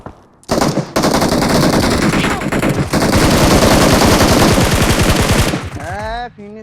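Sustained automatic gunfire in the video game PUBG, a long rattling burst of rapid, evenly spaced shots lasting several seconds, loud and close, with brief gaps before it tails off.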